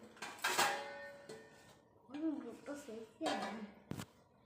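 A metal lid is set on a cooking pot of boiling pitha dumplings, producing a few faint metallic clanks and ringing clinks spread over several seconds, with someone talking nearby.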